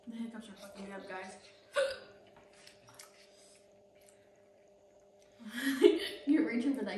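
Hiccups from a person eating spicy Korean noodles during a spicy noodle challenge, a few sharp close bursts near the start and more toward the end, with talk and chatter around them.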